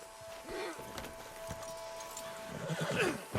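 A horse whinnies loudly in Red Dead Redemption 2, followed by hooves clip-clopping and shuffling nearby, with some background noise.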